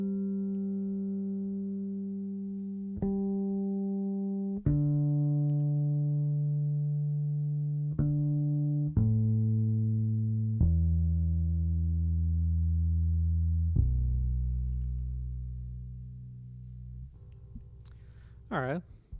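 A bass guitar is tuned by plucking single low notes that ring with clear harmonics, one at a time with pauses between, each sustaining and fading, followed by a brief burst of higher squeaky sound at the end.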